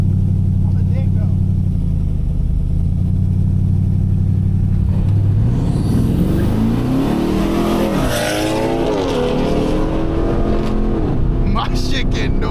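A Pontiac G8 GT's engine drones at a low idle, then revs hard with rising and falling pitch sweeps as its tires lose traction while sliding through traffic, loud and close inside the car.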